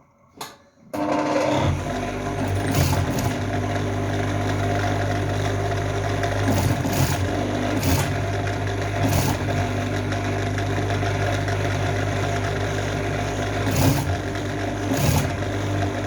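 A sewing machine runs steadily for about fifteen seconds, stitching bias binding around the armhole of a sleeveless dress, with a constant motor hum and a few brief changes in pace.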